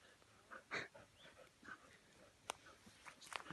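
A frightened dog whimpers and pants quietly in short, uneven bursts, with a few sharp, brief noises breaking in.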